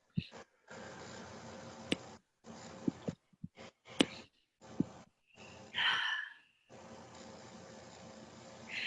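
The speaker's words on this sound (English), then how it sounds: "take a last few deep breaths" Deep, slow breaths close out a clearing meditation, several audible inhales and exhales with gaps of near silence between them, close and fairly quiet over a soft background hiss.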